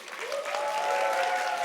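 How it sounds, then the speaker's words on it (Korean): Brief burst of clapping from a church congregation during a Sunday worship service, with a sustained tone or voice running under it. "박수 받아 마땅하다."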